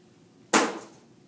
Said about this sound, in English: That was the sound of it hitting a whiteboard that's on the floor behind my desk.